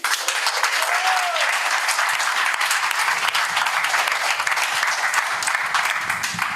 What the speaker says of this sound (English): So I really want to give you all a round of applause for that